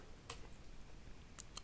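A few faint, sparse clicks of keys on a computer keyboard, three isolated taps over a quiet room background, close by.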